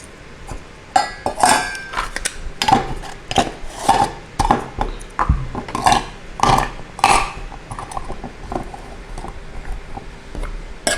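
Nesting camping cook kit pots and lids being fitted back together, with a series of close metallic clanks, clinks and scrapes arriving in an irregular rhythm about every half second.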